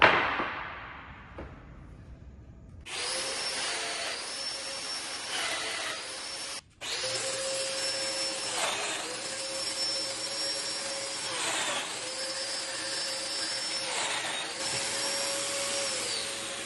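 A handheld router cuts a 3/16-inch roundover along wooden bunk bed rails, a loud steady whine that starts after a brief quiet lead-in, dips once, then runs continuously with slight pitch swells as it feeds along the edge.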